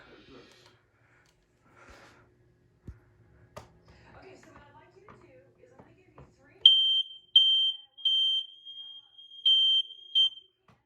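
A household smoke alarm under test lets out several loud, shrill electronic beeps in short bursts near the end. Quiet speech and some handling noise come before them in an indoor room.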